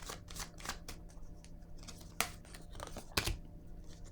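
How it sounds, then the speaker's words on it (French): A card is placed down on a table as part of a tarot-style reading, giving soft close scrapes and shuffling rustles with two sharper taps, quiet and without speech. "Je vais déposer une carte sur le nid."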